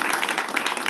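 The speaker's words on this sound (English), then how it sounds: "round of applause for Gladys" Audience applause at a conference, a dense, steady wash of many hands clapping close by, continuous through the short moment with no voices on top.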